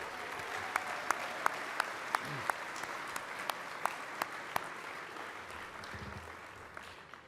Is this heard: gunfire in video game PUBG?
no